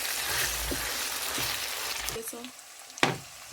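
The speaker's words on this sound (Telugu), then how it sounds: "సో చికెన్ ఫ్రై పీస్ చేయడానికైతే మేము ర్యాప్స్ ఆయిల్ వాడాము" Chicken pieces frying in rapeseed oil crackle with a steady hiss, close by, then the sizzle breaks off into a few clanks and stirring knocks near the end.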